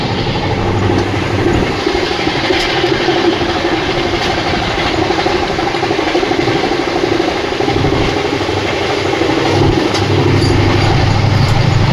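A train rumbles along with a steady low roar and rattling of the cars, continuous and loud throughout, no voices.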